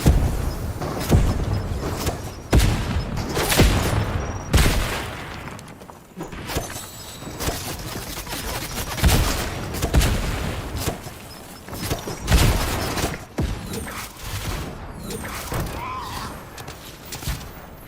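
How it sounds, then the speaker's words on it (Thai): Repeated loud gunshots and impacts in a Fortnite build battle, sharp cracks in irregular bursts throughout, with game noise and occasional voice. "มันยิงอะไรกันนักหนาวะ"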